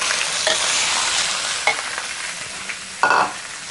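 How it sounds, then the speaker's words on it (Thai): Pork stir-frying with red curry paste in a pan for an Isan-style dish with banana blossom. A loud, steady hiss of sizzling comes from close by, punctuated by a few sharp spatula scrapes. "เราจะผัดหมูนะคะ"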